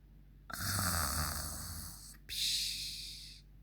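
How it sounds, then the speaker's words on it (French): A person snoring loudly in bed, two long rasping snores in a row, the first deep and rumbling and the second higher and breathier, close up with no talk. "Mais il ronfle encore comme un ogre."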